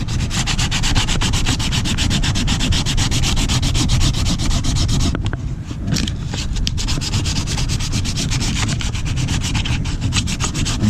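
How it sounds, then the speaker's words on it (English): A sander scuffs steadily across a plastic kayak hull, a dense, loud rasping hiss that runs almost continuously and dips briefly midway, with no voices. "And it's going to take a little bit of sanding."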